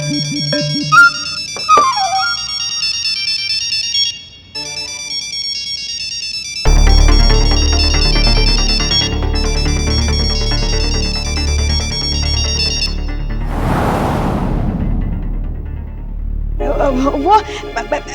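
A loud electronic phone ringtone plays a repeating melodic tune, breaking off and resuming with a fuller, bass-heavy section, over a background of television drama sounds.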